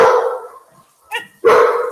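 A security dog barks in short loud bursts, a sharp yelp and then a strong full bark, close by in a home kitchen during a live cooking session.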